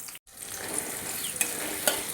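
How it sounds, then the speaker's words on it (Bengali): Onions fry in hot oil for biryani, a close, quiet sizzling hiss with a brief drop near the start and a few soft scraping clicks from stirring. "ওই তেলে আমি কিছুটা পেঁয়াজ ফেরেস্তার জন্য ভেজে রাখব। পেঁয়াজ দিয়ে দিলাম।"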